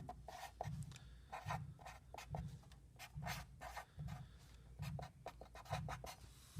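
Pencil scratching across paper as notes are written, in soft rhythmic strokes and short scribbles repeating close by, quiet and with no talk over them.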